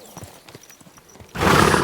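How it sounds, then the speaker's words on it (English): Horse hooves clop over the ground in a medieval setting in Kingdom Come: Deliverance 2, scattered thuds giving way to a loud, close neigh and snort that fills the final half second. "Easy, good horse."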